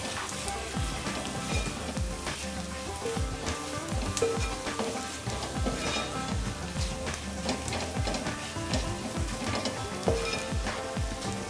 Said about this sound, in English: You can really get the hit of the masala frying